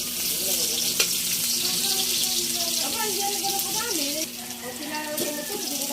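Onion and garlic sizzle steadily in a hot pan for a sautéed banana-heart dish, a continuous frying hiss with occasional stirring clatter, partly under a voice.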